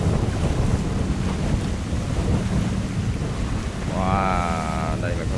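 Waves from a passing ship wash and churn steadily on a river, with heavy wind buffeting the microphone throughout and a brief tonal horn-like sound near the end.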